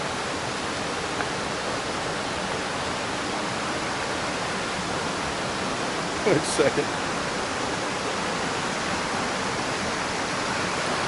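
A waterfall on a creek in a park gives off a steady, broad rushing roar with no break, while a person briefly speaks over it partway through.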